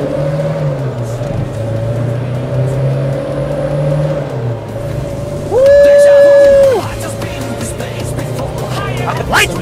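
A modified Isuzu Panther diesel car drones steadily from inside the cabin, its engine note rising in a loud surge of acceleration midway, with a voice talking over it.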